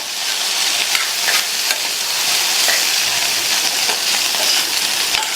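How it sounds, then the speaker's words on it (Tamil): Beans poriyal being stirred with a coconut mixture in a pan, a continuous bright sizzle with scraping stirs and soft clicks of the spoon, close and steady, no talking. "சேர்த்துட்டு எல்லாம் ஒன்றா மிக்ஸ் ஆகிற மாதிரி நல்லா கலந்து கொடுத்துருங்க"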